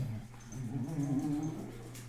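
A dog whimpers softly nearby in a quiet room, a thin wavering whine that rises and falls for about two seconds under a low steady hum.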